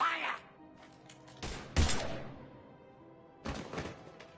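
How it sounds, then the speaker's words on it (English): Gunfire in the video game Mass Effect 3, a few separate sharp bursts of shots with quiet gaps between them. "Now open fire!"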